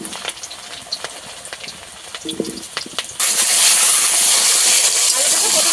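Cut potatoes dropped into hot oil in a wok: a few light clinks and taps first, then a sudden loud, continuous hissing sizzle that stays close and strong to the end.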